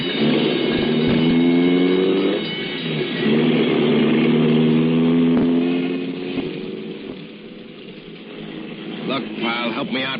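An old ambulance engine in a radio drama effect, revving and pulling away with rising, shifting tones, then fading before a brief final rev.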